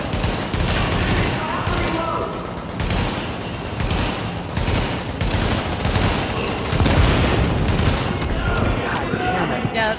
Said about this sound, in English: that's the thing that's shooting me